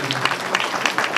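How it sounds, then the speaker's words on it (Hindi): Applause at a musical album launch ceremony, a short burst of dense clapping from an audience at fairly close range, steady throughout with no voices on top. "तालियां जोरदार बजनी चाहिए"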